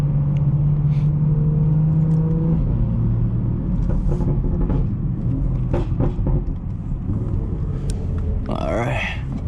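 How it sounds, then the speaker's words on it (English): A BMW 440i rumbles steadily while driving, its low engine note droning close beneath people talking inside the car, with a brief rise near the end. "this car's sounding aggressive right now"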